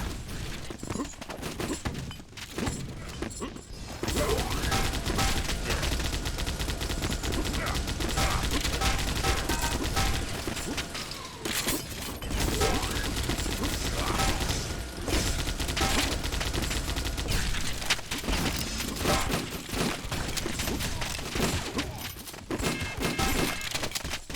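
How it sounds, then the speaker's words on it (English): Quake 2 pistol firing in a video game, its shots mixed into a dense, loud, continuous barrage of game combat noise with brief drops, and no clear gaps between individual reports. "The Quake 2 pistol with four rounds in the mag."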